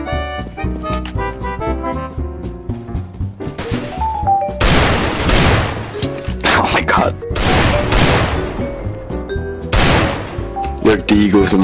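Desert Eagle pistol shots in Counter-Strike: Global Offensive, several loud cracks mixed with rapid bursts of other gunfire and game music-like tones, dense and close throughout.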